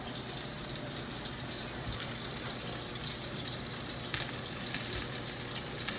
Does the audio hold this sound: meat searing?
yes